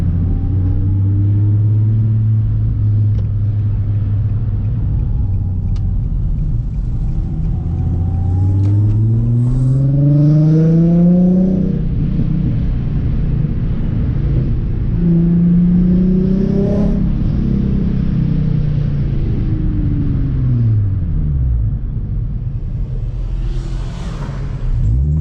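A Nissan 350Z rolls over a bumpy road, its engine droning steadily and rising in pitch as it accelerates, with a constant rumble of tyres and road noise throughout.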